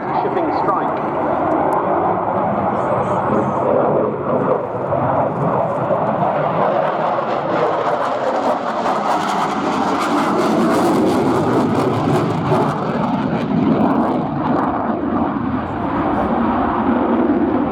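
A Swedish Air Force Saab JAS 39 Gripen fighter jet flies at an air show, a loud sustained jet roar that swells and shifts in pitch as it passes, with announcer commentary throughout.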